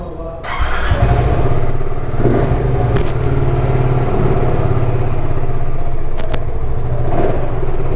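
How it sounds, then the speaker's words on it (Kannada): A BSA Gold Star 650 motorcycle engine runs nearby, a steady, throbbing idle with a slight squeal and a few brief sharp noises over it. "ಗಾಡಿದು ಇದು ನೋಡಿ ಸೌಂಡು"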